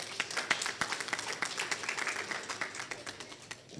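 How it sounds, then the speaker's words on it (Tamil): An audience at an Indian PenPal's League and Tamiliyakkam event in Bahrain claps for parents, a scattered, moderately distant round of individual hand claps rather than a dense roar, lasting a few seconds. "குறைந்த காலகட்டத்தில் சொல்லிக் கொடுத்த பெற்றோர்களுக்கு மாபெரும் கைத்தட்டல்"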